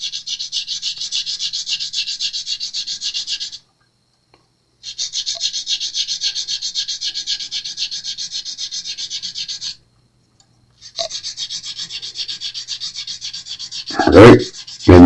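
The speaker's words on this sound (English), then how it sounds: "I take some pretty aggressive sanding pad, and I'm doing just the edge and over like that" Aggressive sanding pad rubbed over the fret edges of an Epiphone Flying V guitar, three long steady raspy strokes with short pauses between, close and fairly loud, ending with a brief knock.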